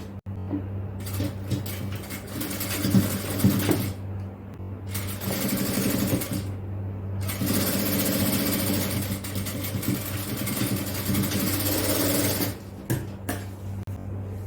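A sewing machine runs in bursts while joining a fabric seam, its motor hum and fast needle rattle starting and stopping several times with brief pauses between runs, close and moderately loud, with no speech.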